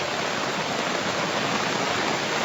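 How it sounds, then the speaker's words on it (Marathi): Heavy monsoon rain pours down in Satara district, a dense, unbroken hiss that holds at the same loud level without pause. "सातारा जिल्ह्यामध्ये मुसळधार पाऊस बरसतोय"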